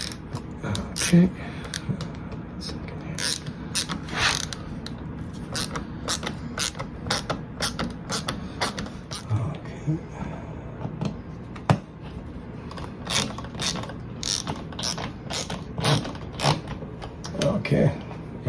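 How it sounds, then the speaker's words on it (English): A flathead screwdriver drives the mounting screws of an electrical outlet a little at a time, top and bottom, giving repeated close creaks and ratchety clicks, with a brief spoken word. "got our flathead screwdriver and we just lined up the screws, and I'm just gonna go ahead and screw that in."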